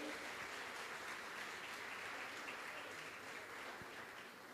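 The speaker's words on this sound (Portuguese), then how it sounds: "A igreja pode aplaudir ao Senhor pela vida dela." A church congregation applauds during an evening service, a loud, sustained wash of clapping from a large crowd that holds steady for several seconds with no voices over it.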